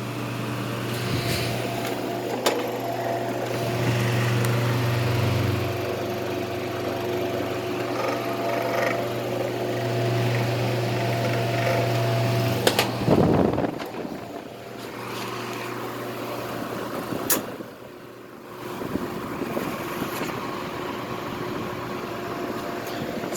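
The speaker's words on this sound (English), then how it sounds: "That's just the way the motor sounds." A Mistral Gyro Aire fan motor running with a steady, close mechanical hum and drone. Its tone shifts partway through, with brief clunks and a dip in level, and there is no talking.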